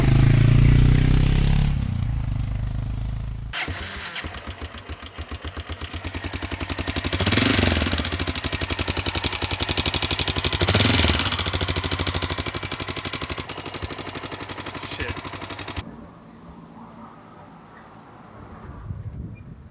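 Motorcycle engine with a suspected worn chain tensioner revving and idling with a harsh, fast metallic rattle and clatter, swelling louder twice mid-run before cutting off into quieter background noise.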